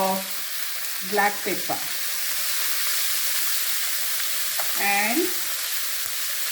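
Beef mince cooking in a pan, a steady hissing sizzle running continuously beneath someone speaking in short phrases.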